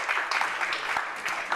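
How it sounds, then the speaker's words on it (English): An awards ceremony audience gives brief, dense applause for Daniel Macaulay, a steady wash of clapping with a few louder claps standing out. "A big round of applause for him for us"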